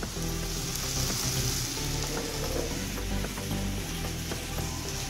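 Potatoes and tomatoes sizzle and fry in oil while cooking in a fish curry, with a steady close crackle, occasional stirring clicks and scrapes, and no voices.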